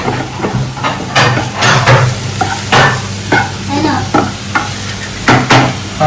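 Mushrooms frying in a pan while being stirred: a loud, steady sizzle broken by repeated scraping bursts from the stirring, with no voices.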